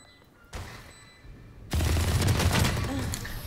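Gunfire in the video game Valorant crackles in short bursts, then swells into a louder, sustained volley of rapid shots mixed with game effects, close and intense.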